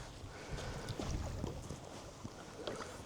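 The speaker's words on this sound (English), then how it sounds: "The wind is still with us today" Wind blows steadily across open water on the Norfolk Broads during a canoe trip, a low continuous rush with some gusty buffeting against the microphone and no talking.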